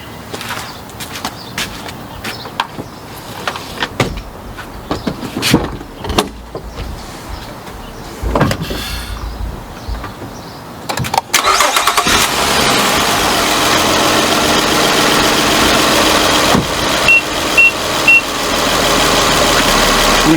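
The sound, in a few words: car engine starting and idling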